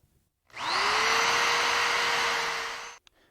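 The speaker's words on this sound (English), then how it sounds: "I start out by pre-drilling the hole for the screws with a 7/64 inch drill bit, being careful not to drill through." A drill with a 7/64 inch bit spins up and bores a pilot hole for screws in wood for a Mission-style bed, giving one steady, close whine of about two and a half seconds that cuts off sharply.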